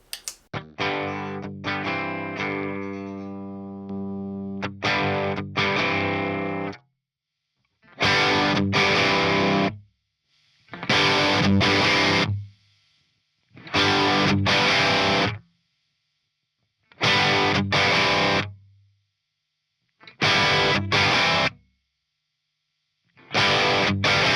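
Distorted electric guitar through a Marshall Origin 50 tube amp at low master volume, loud and crunchy: a sustained strummed chord that rings out, then six short choppy chord stabs separated by clean silences.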